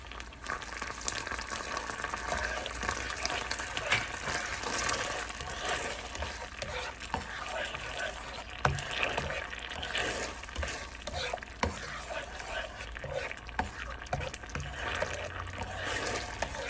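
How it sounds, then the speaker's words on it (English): Water sizzles and bubbles in a hot pan of chicken and garlic throughout, with occasional stirring clicks and splashes, close by and fairly steady. "I'm going to put a little water here."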